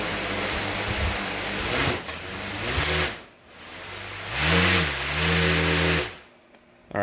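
Drone motors whine loudly as propellers spin very fast, pitch rising and falling in surges, dipping briefly then revving up again, close and harsh with no talking.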